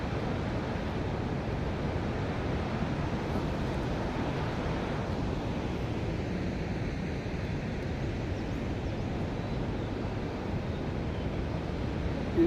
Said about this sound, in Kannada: ಕಲರವ ಕೇಳ್ತಾ ಇದೆ ನದಿಯ ಕಲರವ